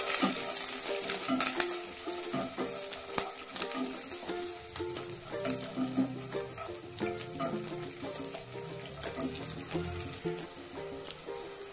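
Green chillies and curry leaves crackle and sizzle in hot oil in a pan for poha, a busy stream of close pops and spatters with occasional stirring scrapes.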